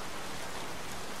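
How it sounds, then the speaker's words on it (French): Steady rain pours in the video game Heavy Rain, a dense, even hiss of falling drops filling the whole moment with no other sounds. "Foutu pluie."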